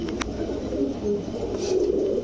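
Large pigeons at a pigeon farm coo in a steady low murmur, several birds overlapping close by, with a brief sharper call near the start and no talk.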